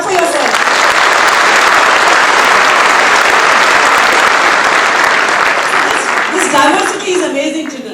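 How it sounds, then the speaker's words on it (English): A large hall of freshmen at an induction ceremony claps for about seven seconds as a loud, sustained roar that fades out at the end. "Clap for yourself."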